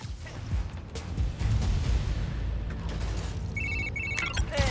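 A telephone rings a few short trilling bursts near the end, over a busy, rumbling game soundscape in Spider-Man: Miles Morales.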